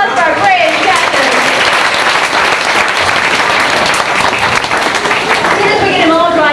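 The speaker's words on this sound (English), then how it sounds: "How about a big round of applause for our brave captain?" A crowd applauds a captain during a 1992 summer vacation show, loud sustained clapping with cheering voices mixed in, holding strong from start to finish.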